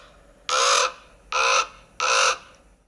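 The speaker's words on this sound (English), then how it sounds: "Ravens have deeper voices, and they make a croaking noise," Three loud, harsh croaks from a single raven, evenly spaced and close by, with quiet pauses between calls.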